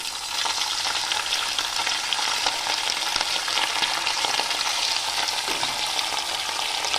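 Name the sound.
frying marinated chicken coated in cornflour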